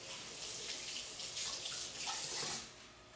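Tap water runs steadily into a kitchen sink while something is washed up, a continuous close splashing hiss with slight surges and no talking.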